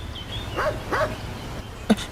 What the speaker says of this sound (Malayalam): എന്താ സാറേ നായുടെ ശബ്ദം കേൾക്കുന്നുണ്ട്?